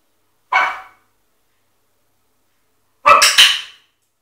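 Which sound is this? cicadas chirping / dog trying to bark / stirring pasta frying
dog trying to bark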